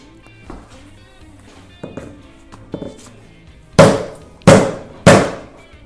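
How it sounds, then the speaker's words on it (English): A soft hammer strikes a motorcycle rear wheel assembly on a Honda RC51 during a sprocket change, starting with a few light taps and ending in three loud, evenly spaced bangs, heard up close. "I just used a soft hammer just to bang the whole thing forward"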